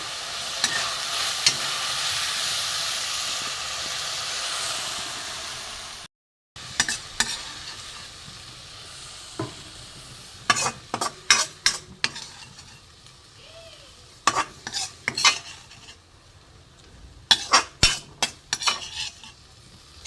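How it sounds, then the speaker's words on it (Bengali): Medium shrimp sizzle in a pan, first as a loud, steady hiss, then after a short break as quieter frying broken by sharp clinks and scrapes of a spatula stirring, some in quick clusters. "চিংড়ি মাছ বেশি ভাজবো না, শক্ত হয়ে যাবে।"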